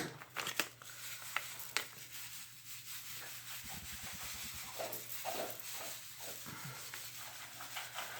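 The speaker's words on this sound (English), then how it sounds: "I think I am going to go ahead and just add that other bag of sand." Sand is poured into floral foam in a small DIY cactus garden, making a soft, steady rustling hiss that stays faint throughout, with a few light taps at the start.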